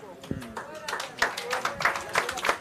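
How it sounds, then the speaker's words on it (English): Scattered clapping from a cricket match crowd, a patter of claps rising and falling for a few seconds, with a voice talking over it. "Warm applause for Will Cooper from the crowd."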